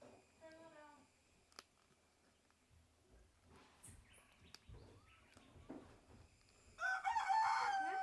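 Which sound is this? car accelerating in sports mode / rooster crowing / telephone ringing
rooster crowing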